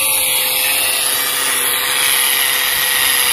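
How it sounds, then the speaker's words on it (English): A power tool cuts through 16 mm steel rebar set in concrete at a chain link gate installation, giving a steady, loud, continuous grinding hiss with no pauses and no talk. "he is cutting some rebars in there, the 16 mm."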